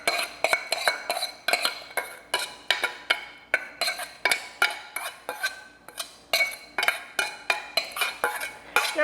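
Oats and dry granola ingredients are stirred in a pot with maple syrup. A spoon scrapes and clatters against the pot in a steady, rhythmic run of sharp strokes, close and clear, with no talking.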